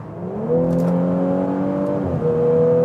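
A sports sedan engine, one of a BMW M340i, Mercedes C43 AMG or Audi S4, revs loudly and steadily close by, its tone climbing and holding, then dropping briefly before rising again.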